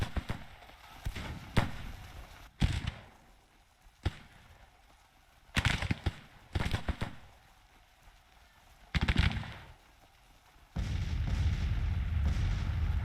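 Artillery cannon fire in the Grand Tactician strategy game, with a series of sharp booming blasts scattered across the scene, some loud and close, others fainter, ending in a sustained low rumble.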